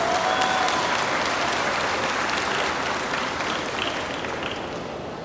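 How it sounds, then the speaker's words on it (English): A gymnasium crowd at a high school graduation applauds the class advisors, a broad wash of many hands clapping that holds steady and gradually tapers, with faint cheers mixed in. "let's just give one more round of applause for Mrs. Potts and Mr. Cesare, your advisors"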